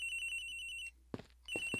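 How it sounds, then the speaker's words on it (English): Electronic telephone ringing in the Ace Attorney Investigations video game: a rapid warbling ring in repeated bursts, a pause, then the ring resumes, with brief footstep-like thuds in the gap. "The ringing is coming from somewhere around here."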